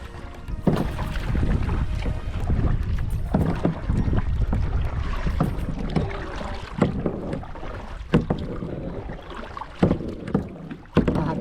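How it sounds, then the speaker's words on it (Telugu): A boat ride on a reservoir, with steady splashing water and rushing wind buffeting the microphone throughout, broken by occasional louder knocks and slaps close by. "Boat riding."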